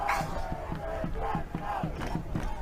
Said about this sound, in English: Crowd still continuing to urge the Ravens on